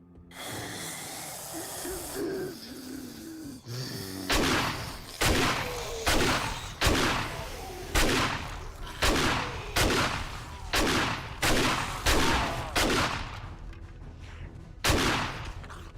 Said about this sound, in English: This shotgun just destroys these blocks.